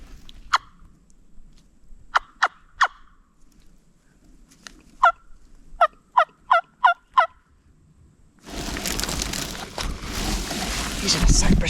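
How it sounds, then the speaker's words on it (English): An Osceola wild turkey gobbles in a Florida cypress head, giving about ten sharp, fairly distant gobbles in loose bursts over quiet woods, before a loud rush of wind or rustling noise takes over. "I heard a distant gobble."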